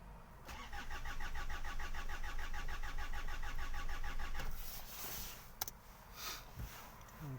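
A Hyundai Santa Fe that will not start cranks over steadily on its starter motor, with a rhythmic, even chug for several seconds. The cranking then stops, leaving quieter handling noises and a sharp click.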